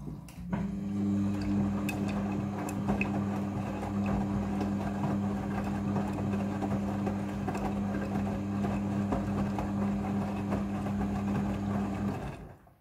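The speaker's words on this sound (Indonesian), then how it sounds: "Setelah proses pemerasan selesai, masuk ke proses pembilasan air yang kedua." A Midea front-loading washing machine fills with water for its second rinse, giving a steady, loud motor hum and water rush that runs unbroken for about twelve seconds before stopping abruptly.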